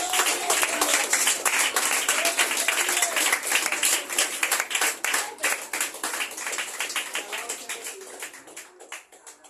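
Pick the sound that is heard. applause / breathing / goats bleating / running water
applause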